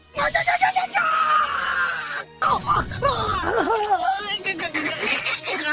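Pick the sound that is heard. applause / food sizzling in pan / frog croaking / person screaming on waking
person screaming on waking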